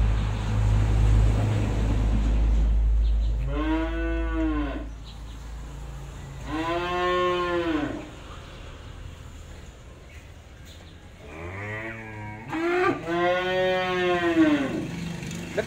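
A pair of F2 crossbred cows lowing at a cattle pen, several long, resonant moos spaced a few seconds apart, close and fairly loud over low background rumble.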